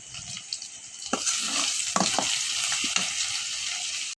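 Jute leaves go into a hot frying pan and are stirred, with a loud, steady sizzle and scattered scraping clatters from the spoon, heard up close.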